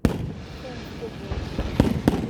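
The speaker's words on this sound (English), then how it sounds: "The fireworks." A fireworks show in Montgomery on the night of July 3rd, with a few sharp distant bangs and pops over a steady crowd murmur, close talk mixed in.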